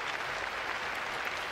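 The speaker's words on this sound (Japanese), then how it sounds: "TT 埼玉の選手に今一度大きな拍手をお願いいたします" Indoor arena crowd at a T.League table tennis match between Okayama Rivets and T.T Saitama in a gymnasium gives continuous applause, a dense, even clapping that fills the whole stretch.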